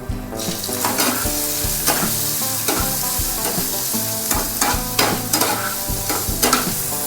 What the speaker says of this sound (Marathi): तीन मिरच्या टाकायच्या आहे लाल मिरच्या तीन हे बारीक चिरलेला कांदा आहे टाकायचं आहे